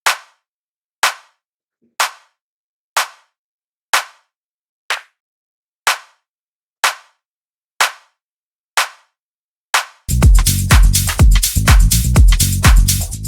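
Layered clap samples in an Ableton house track: ten crisp single claps at a steady one-per-second pulse, loud and dry, then the full mix of the funky house track kicks in densely with no talk.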